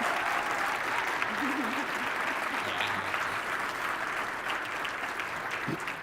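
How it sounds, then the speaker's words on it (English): Sustained audience applause fills a large general-session hall at an LGBTQ conference, steady and dense throughout, with a few faint voices mixed in. "Please, again, clap for these folks."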